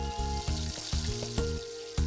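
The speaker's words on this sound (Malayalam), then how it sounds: "ഇത് നെയ്യിൽ മൂപ്പിക്കുക." Onions, ginger-garlic paste and green chilli paste fry in ghee for chicken biryani, giving a close, bright sizzle with a few soft stirring knocks.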